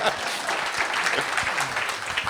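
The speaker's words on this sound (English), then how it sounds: "that does deserve a round of applause" A conference room full of people applauding steadily, a dense, even wash of clapping that holds its level throughout.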